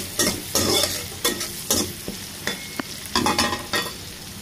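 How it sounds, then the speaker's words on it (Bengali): Turnip and prawns frying in a pan with onion and green chili, stirred in repeated bursts: a spatula scrapes and clatters about seven times over a continuous close sizzle. "এটাকে ভালোভাবে মিশিয়ে দিতে হবে"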